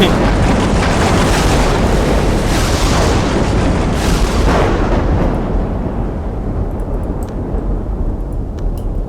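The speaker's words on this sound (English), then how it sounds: "I need this thunderstorm to go away." Thunderstorm in the video game Amazing Cultivation Simulator: a loud, continuous rumbling roar of thunder and storm noise that stays steady for several seconds and then eases slightly, with no talk.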